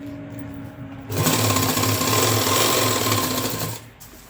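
A sewing machine stitches a zipper into a coat, a fast, steady mechanical whirr that starts after a low hum, runs close and loud for nearly three seconds, then stops.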